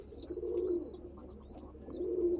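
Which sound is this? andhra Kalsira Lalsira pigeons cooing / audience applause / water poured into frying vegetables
andhra Kalsira Lalsira pigeons cooing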